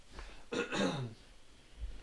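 A single raspy cough or throat clearing, close and fairly quiet, followed by a short pause.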